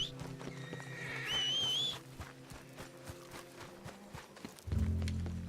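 A horse in Red Dead Redemption 2 gives a rising whinny, followed by steady clip-clopping hooves moving along at a walk, with a low rumble coming in near the end.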